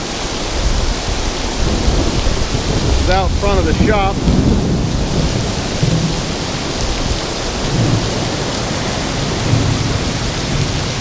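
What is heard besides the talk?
rain and thunder outside workshop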